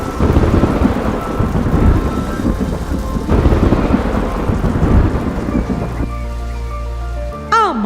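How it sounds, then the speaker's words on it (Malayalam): Loud rolling thunder breaks over a heavy downpour of rain, the storm roaring close and continuous, then easing into sustained tonal sounds near the end. "പെട്ടെന്ന് നല്ലൊരു ഇടിമുഴക്കത്തോടെ വലിയൊരു മഴ പെയ്തു."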